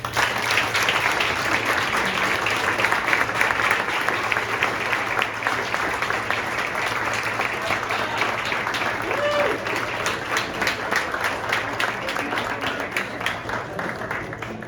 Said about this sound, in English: Please join me in giving a thunderous round of applause for Scott Reimann.